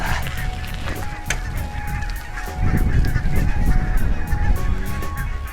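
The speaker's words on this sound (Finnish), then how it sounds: "Tuosta suunnasta vissi on tulossa noita hanhiparvia" A flock of geese honking repeatedly overhead by a riverside in September, loud nasal calls overlapping in a busy chorus against steady outdoor rumble, no voices.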